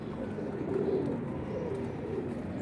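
Pigeons coo softly on a rooftop, low and muffled, a steady murmur of calls at moderate distance with no talking.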